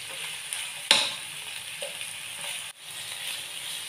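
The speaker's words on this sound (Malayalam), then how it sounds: "സവോള ഞാൻ വഴറ്റുവാണ്." Onion sautéing with salt and green chili in a hot pan, a steady crackling sizzle with a sharp clink of a utensil and light stirring, close up.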